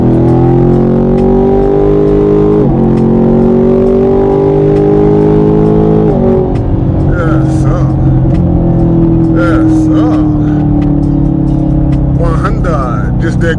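A 2018 Ford F-150 Raptor with the EcoBoost engine pulls onto a highway, its steady engine drone rising in pitch through the gears over about fourteen seconds. Someone talks throughout above the engine noise.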